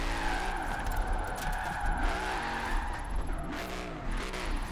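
A video game car engine revs and falls in repeated swells while tires squeal in long slides, a steady loud drifting run with no voices.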